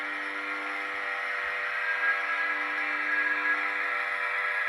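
An HO scale model train running on a layout under construction, a steady, even whir with a bright humming tone, close and unbroken, with no talking.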